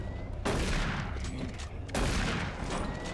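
Two booming blasts of a super shotgun in Doom 3 BFG Edition (Resurrection of Evil), one at about half a second and another a second and a half later, each a loud, broad burst that rumbles on into a reverberant tail.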